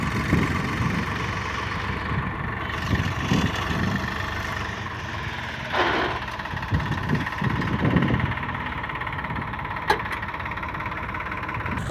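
A tractor engine runs steadily at a farm in Gujarat while a load is being unfastened, a constant mid-low rumble with faint knocks and rustles from nearby work.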